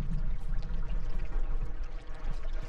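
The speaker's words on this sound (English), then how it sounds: "The deep water, like, clanking of stuff." Deep underwater ambience in the Rain World video game, a dense low rumbling, pouring wash with faint clanking and bubbling textures, steady and enveloping with no talk.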